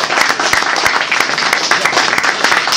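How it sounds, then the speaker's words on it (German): Small crowd at a rabbit breeders' show award ceremony in a youth centre claps loudly and unevenly, individual sharp hand claps standing out within the close, continuous applause. "Applaus"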